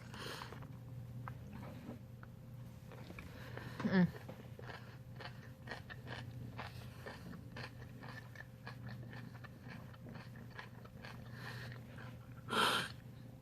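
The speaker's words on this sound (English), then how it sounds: "you probably hear me chewing celery" Quiet, close chewing of raw celery with soft crunches and mouth noises over low room hum, plus two brief louder bursts of crunching or movement.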